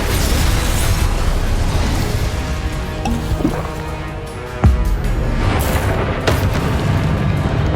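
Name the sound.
spell explosions from Hogwarts Legacy video game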